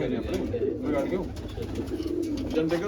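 Pigeons kept by a fancier cooing close by, a repeated low throaty burble over a steady murmur of background noise.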